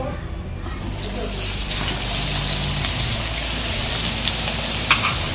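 Onion going into hot oil with bay leaves, black and green cardamom, cloves and black pepper sets off a steady, close sizzle that holds level and continuous for several seconds, with a couple of faint clinks near the end.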